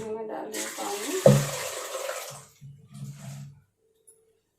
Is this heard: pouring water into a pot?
yes